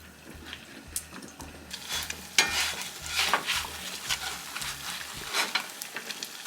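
Eggs frying in a pan, a soft sizzle with intermittent spatters and crackles, heard close and steady throughout with no voices.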